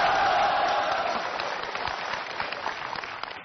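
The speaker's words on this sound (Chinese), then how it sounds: "给他掌声鼓励一下" Studio audience applause on a comedy stage show, a broad wash of clapping that starts strong and gradually thins out over a few seconds, with no voices over it.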